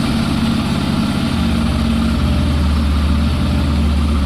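A Yamaha FZS V4 hybrid motorcycle idles steadily right after starting, its low, even engine rumble continuous and close for the whole stretch with no talking.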